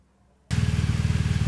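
A 2017 BMW R1200GS Adventure motorcycle fitted with a Yoshimura exhaust over factory chrome headers fires up after a short silence, then settles into a loud, steady, throbbing idle with a pulsing low rumble.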